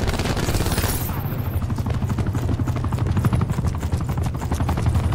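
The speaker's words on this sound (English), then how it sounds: "Enemy attack chopper above." Rapid rhythmic thudding of an enemy attack helicopter's rotors overhead in the video game Black Ops 4, loud and continuous, with gunfire bursts mixed in.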